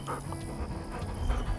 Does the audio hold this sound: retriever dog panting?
yes